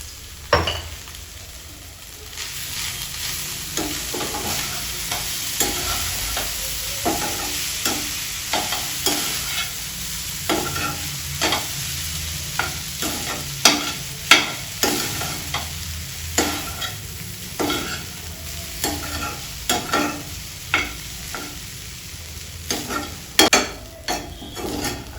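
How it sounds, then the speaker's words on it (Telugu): Palak batani rice, spinach and peas with rice in a pan, being stirred with repeated scraping and clinking strokes over a soft continuous sizzle, the stirring irregular and close. "మంచిగా కలుపుకుందాం."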